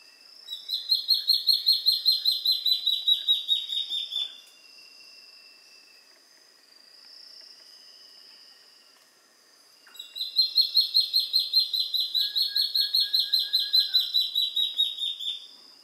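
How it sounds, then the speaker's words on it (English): Male white-browed antbird singing in southern Amazonian forest, two bursts of rapid, rhythmic high notes separated by a quieter pause with faint background insects, loud and close with no voices. "Then a male white-browed antbird."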